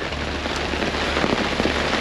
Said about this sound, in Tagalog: Biglang bumulan, napakalakas ng ulan.